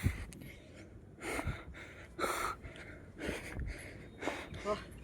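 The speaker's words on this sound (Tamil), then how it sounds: "மூச்சு வாங்குது" Heavy, rhythmic panting while climbing a hill at Thiruchengode, with repeated loud gasping breaths and snorts close to the microphone.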